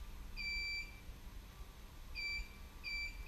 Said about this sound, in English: Continuous beeps, turn it back.